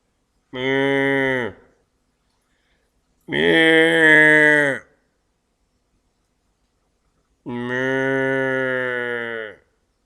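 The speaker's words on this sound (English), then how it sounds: "Cows being swept away in the creek." Three long, loud cattle moos, each lasting over a second, separated by short silences, as cows are swept away in a flooded creek.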